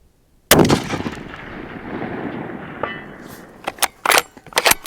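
A Barrett 98B Tactical rifle in .300 Win Mag fires a single loud, sharp shot at a 600-yard target, its blast rolling away into a long echoing tail, followed by a few clattering metallic clicks from the rifle.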